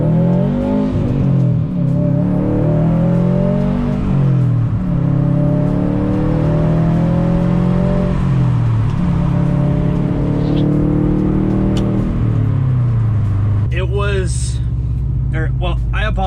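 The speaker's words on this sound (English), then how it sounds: "I'm gonna put a couple clips in here of me freaking romping on my car on the freeway" A Subaru STI accelerates hard on a freeway, its engine revving up loud and close, climbing through several gear changes with steady road and wind roar underneath.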